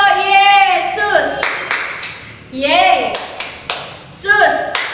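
Children singing and clapping along in a Sunday school clapping song, bursts of sung voices alternating with sharp, irregular hand claps close by.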